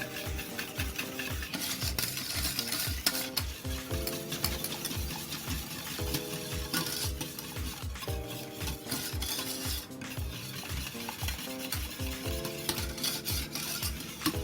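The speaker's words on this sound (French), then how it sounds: "Et je mélange bien." Blueberry purée and pectin are stirred in a pan with a whisk or spoon, giving quick rhythmic scraping and rubbing strokes against the metal, close and steady, while tonal music plays in the background.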